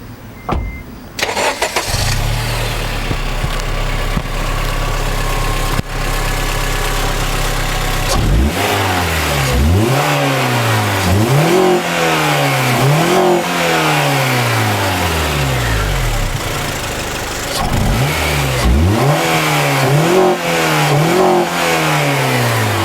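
A 2008 Honda Civic Si, parked, has its engine started and then revved repeatedly, with several rising-and-falling rev sweeps against the rev limiter, loud and close over a steady idle.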